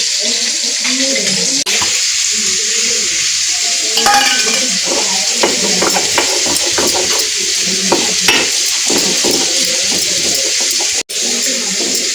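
Small fish frying in oil in a home Bengali kitchen, a steady close hiss of sizzling with occasional stirring clatter and a brief tap-water splash, no talk.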